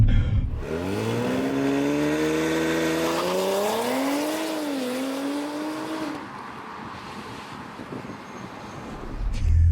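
Audi RS5 Sportback launching hard from a launch control start, engine revving up through a loud rising roar with a gear change, then fading as the car pulls away, wind noise at the end.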